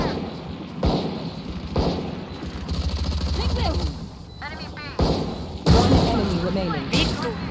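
Gunshots from the Valorant video game on the Replication mode map crack out in several bursts across the stretch, loud and close, mixed with game effects and a voice talking over them.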